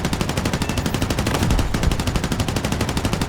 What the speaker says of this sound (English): Swing the guns over to the starboard side, and open fire.